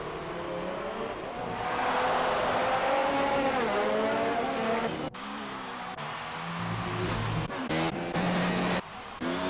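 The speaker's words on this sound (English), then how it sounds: "That car will sit on the quicker inside line and won't help the Red Bull of GSR Axe here" Race cars in an F1 video game lapping the Abu Dhabi Grand Prix circuit, engines loud and close with rising and falling revs, gear shifts and abrupt cuts, no voices over them.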